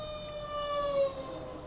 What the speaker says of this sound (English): I have an ambulance coming right behind me. So we'll let the ambulance and the fire truck go by.